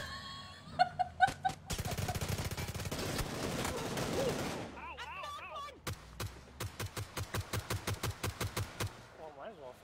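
Video game gunfire rattles in rapid bursts, first a dense stretch of fire, then a run of evenly spaced shots, with players laughing and shouting over it.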